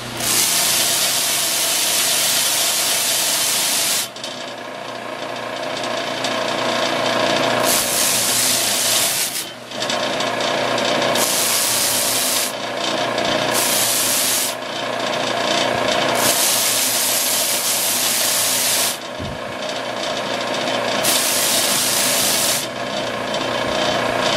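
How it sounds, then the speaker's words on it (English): A sand flea sander works on wooden pieces of a tavern sign, a loud grinding rasp running in long strokes broken by short pauses, close and with no talk. "see if we can get these smoothed out and rounded over a little bit"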